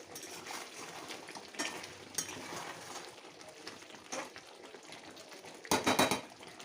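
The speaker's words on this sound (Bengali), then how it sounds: "ঢাকনাটা খুলে একটু নেড়ে চেড়ে দিতে হবে যাতে করে নিচেটা লাল না হয়ে যায়" A spoon stirs chicken kosha in a pot, making soft intermittent scrapes and light metallic clinks against the cookware, with a louder clatter of pot or lid near the end.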